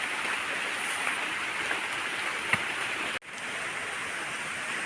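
Steady rain falls outdoors in an even, hissing wash, with a brief drop-out near the end.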